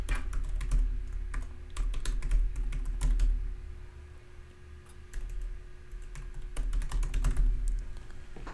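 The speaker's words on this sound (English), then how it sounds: "I'll type her email in here again." Rapid, steady clatter of typing on a computer keyboard while entering an email address, close-up and continuous with a few short pauses, over a low background hum.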